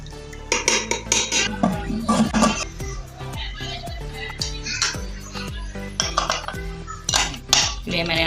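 Mutton and dal ingredients with cooking oil are mixed in a metal pot, a spoon clanking and scraping against the sides in repeated loud, close strokes.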